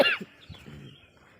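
A woman with a cold coughs once, sharply and close, followed by a few softer, raspy throat sounds that trail away into quiet.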